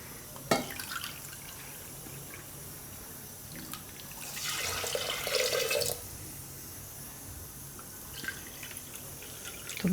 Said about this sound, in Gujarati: હવે આપણે 1 કપ ભાત લીધા હતા, તો એમાં આપણે પાણી ભરીને નાખીશું.